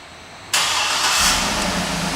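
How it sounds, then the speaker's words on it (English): A black 2011 Cadillac Escalade SUV starting by remote start: a sudden engine catch followed by a steady, smooth idle with a brief swell as it settles, heard from nearby without talk. "this vehicle also has remote start, and I'll show you how that works"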